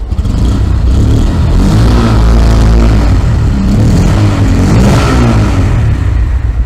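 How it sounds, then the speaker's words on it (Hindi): A 2025 Bajaj Pulsar N160 motorcycle engine revs up and holds at high speed, its rising whine swelling and dipping steadily without pause for several seconds. "और ये रेस देने के बाद में साउंड है।"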